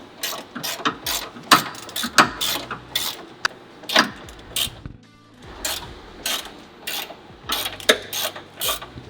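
A hand ratchet tightens driveshaft bolts to torque spec in a motorsports shop, giving repeated bursts of sharp clicking, loud and close, separated by short pauses across the clip.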